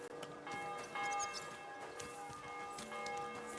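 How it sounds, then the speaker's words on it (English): In the medieval role-playing game Kingdom Come: Deliverance II, a church bell rings out at midday, its sustained metallic tones and overtones hanging over a busy ambient background, moderately faint and without talk. "There goes the midday bell."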